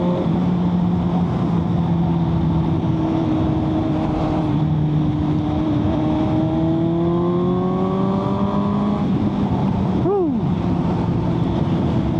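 Suzuki GSX-S750 motorcycle fitted with a Yoshimura Alpha T exhaust, ridden through Patong on a sunny day, giving a steady engine drone under wind noise with gently shifting pitch and a quick rev that rises and falls near the end.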